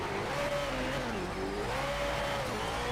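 Car engine in the Need for Speed racing game holds a steady, loud drone with a rising and falling pitch as it revs, continuous and close, with no talk over it.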